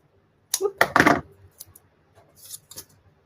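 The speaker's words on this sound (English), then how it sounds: "Let's just cut some tape." Scissors snip through a piece of tape at a crafting table during scrapbook work, a few short crisp cuts close up, followed by faint light rustles.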